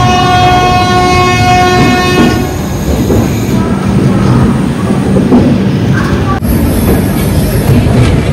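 A train passes close by, opening with sustained horn tones before a loud, steady rumble of wheels and carriages that carries on through the whole stretch.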